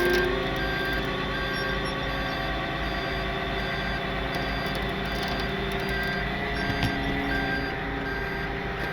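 A 15,000 pound septic truck reversing, its engine droning low and steady while a continuous tonal reversing beeper sounds over it; nobody speaks.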